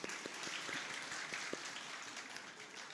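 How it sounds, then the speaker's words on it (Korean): A church congregation at an early-morning special prayer service applauds a child for a correct answer, a soft, even patter of many clapping hands heard from some distance, with no voices over it. "오나린 박수."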